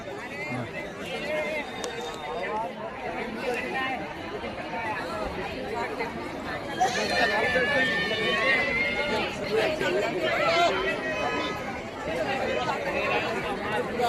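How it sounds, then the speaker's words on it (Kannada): Large crowd chattering and milling at the entrance of the Murdeshwara temple, a dense steady babble of many voices, close and continuous throughout, swelling slightly louder midway. "ಸಿಕ್ಕಾಪಟ್ಟೆ ಕ್ರೌಡ್."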